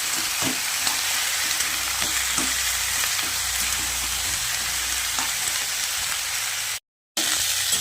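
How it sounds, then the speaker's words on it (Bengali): Steady, loud sizzling of vegetables frying in a pan, with repeated soft scraping and clicking as they are stirred, broken by a brief silent gap near the end. "এটাকে 5-7 মিনিট ধরে ভেজে নিতে হবে।"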